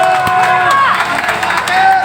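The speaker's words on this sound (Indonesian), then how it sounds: "Tepuk tangan untuk demokrasi." Crowd cheering and shouting at a progressive political discussion and people's consolidation meeting in Indonesia, a dense, loud burst of voices and whoops filling the whole moment without pause.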